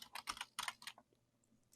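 Quick bursts of typing on a computer keyboard, two clusters of crisp clicky keystrokes close to the mic, then a pause and a few lighter taps, fairly quiet and with nobody talking.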